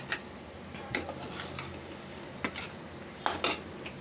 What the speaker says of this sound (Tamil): குழம்புல போட்டது பாருங்க, நல்லா கிண்டி விட்டுடலாம்.